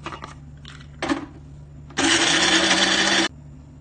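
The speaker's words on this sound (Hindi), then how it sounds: "इसको हम पहले ग्राइंड करेंगे।" Cashews ground in an electric grinder: a short burst near one second, then a loud, steady whirring grind of about a second and a half that stops abruptly, with quieter handling noises before it.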